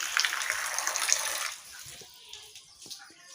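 Water pours into a container in an Indian village, a bright splashing gush for about a second and a half before it fades to quiet handling noises.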